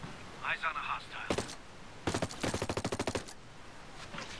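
Gunfire in the tactical shooter Ghost Recon Breakpoint: a short burst, then a longer rapid automatic volley of sharp cracks, with a voice speaking briefly beforehand.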